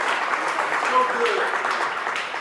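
A large audience at an evening conversation event applauds steadily, a broad wash of clapping that stays level and fairly close throughout.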